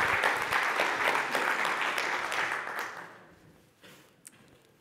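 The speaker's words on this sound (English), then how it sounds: "présentée par Donia, sous vos applaudissements" Conference audience gives a round of applause after a speaker is introduced for a talk on eBPF, loud dense clapping that fades away after about three seconds, leaving near silence with a faint knock.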